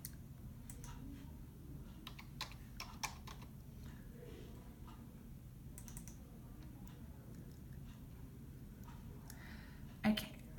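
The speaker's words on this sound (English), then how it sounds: "I'm going to try to type hello" Fingers type on a computer keyboard in short, quiet clusters of key clicks with pauses between, soft and close, ending with a slightly louder click.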